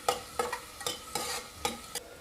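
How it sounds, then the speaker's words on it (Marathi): Finely chopped onions frying in hot oil for a Kolhapuri dry mutton dish, with a steady sizzle under repeated scraping stirs of a spoon in the pan, close and clear, no speech. "आता मी ह्याच्यात आपले कांदे बारीक चिरलेले घालून घेते सगळे आणि चांगले गोल्डन होईपर्यंत परतवून घेणार आहे।"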